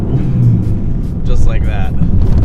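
A Fiat 500 Abarth with a lighter flywheel revs sharply in a quick heel-toe downshift blip midway, rising over a steady, loud engine drone heard from inside the car. Voices carry through the cabin.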